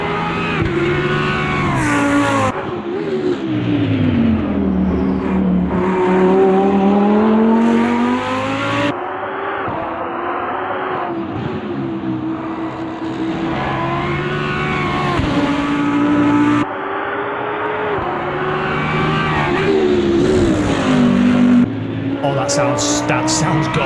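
Race car engine in an Automobilista 2 replay, howling through rising revs with repeated gear shifts and sweeping pitch changes, loud and close, with a voice talking at times over it.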